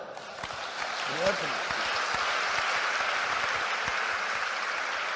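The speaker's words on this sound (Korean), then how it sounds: "그래, 박수요." Church congregation applauding during a Sunday worship service, steady continuous clapping held at an even level, with a brief voice near the start.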